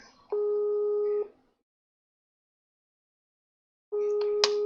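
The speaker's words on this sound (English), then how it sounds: "We're going to call him." A telephone line gives two steady electronic tones: one long tone, a pause of silence, then a second tone that begins and is cut off near the end. The tones are clear and loud, with no talk over them.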